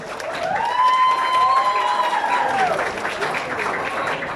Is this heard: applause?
yes